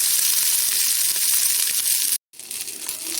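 Curry leaves, chana dal and dried red chilies fry in hot oil with a steady, dense sizzle that runs near and loud throughout, broken only by a brief dropout.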